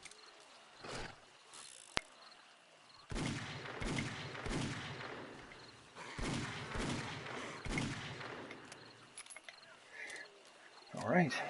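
Magnum revolver gunfire in 7 Days to Die: loud, sharp shots in several separate bursts with brief pauses between, booming close up.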